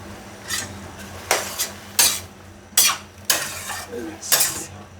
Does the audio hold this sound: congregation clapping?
no